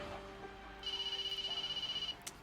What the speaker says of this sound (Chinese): 刚出来一会儿，电话就来了。